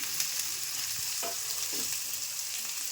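Carrot and onion fry in oil in a pan for shavige uppittu, giving a steady close sizzle with a few soft stirring scrapes and no talking.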